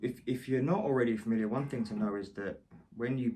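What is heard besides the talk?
No distinct noise like a dog, phone or traffic.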